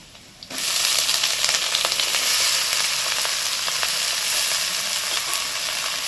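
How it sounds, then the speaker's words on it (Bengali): Water lily stems and ginger hit hot oil at the half-second mark, setting off a loud, steady crackling sizzle that holds for several seconds with faint stirring scrapes and no voices. "একসাথে এটাকে ভেজে নেব"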